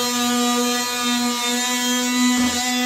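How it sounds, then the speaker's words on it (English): A power sander smoothing a freshly plastered wall section in a hallway gives a steady, close-up electric motor hum that runs unbroken for about three seconds, with no voices. "That's just sanding down this bit of wall that he's plastered."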